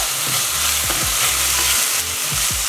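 Onions stirred in a pot as they fry for shakshuka, a steady loud sizzle with repeated scraping strokes of the spoon against the pot, no voices.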